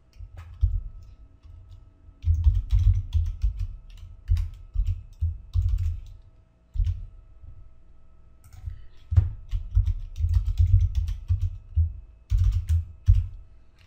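Rapid keystrokes on a computer keyboard while a password is entered during domain user setup, in busy bursts of clicking with short pauses, close and fairly loud throughout.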